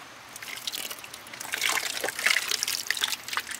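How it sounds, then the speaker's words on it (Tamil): Yogurt poured into Malabar chicken biryani masala gives a steady wet trickling and glugging that swells midway, close and fairly quiet, with no talking. "அது கூடவே தயிர் ஊற்றிக்கலாம்."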